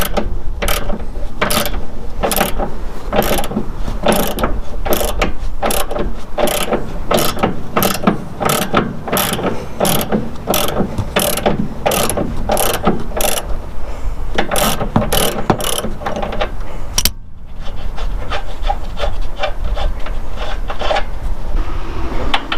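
A ratchet clicks rapidly and continuously, close and loud, while loosening the Panhard rod bolts on a 1993 Camaro Z28. There is one brief pause before the cranking resumes.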